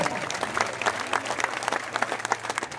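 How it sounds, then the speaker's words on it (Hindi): A crowd at an outdoor panchayat political gathering claps in a brisk, continuous round with distinct individual claps standing out, steady and moderately loud throughout. "एक बार ताली पीट के बता दो भाई।"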